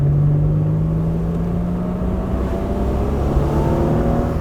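V6-swapped Mazda Miata with about 230 hp accelerating hard, its engine note climbing steadily in a loud, close, continuous rev with road and wind roar underneath.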